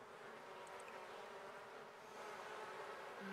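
Bees buzz around a beehive in The Sims 4, a continuous droning hum that is steady and fairly faint, heard alone without talk.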